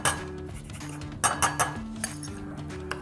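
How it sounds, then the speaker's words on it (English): A utensil stirs a pot while cooking, metal clinking and scraping against the pan in quick, close taps, with a brief cluster of bright clinks in the middle. "Give this a stir."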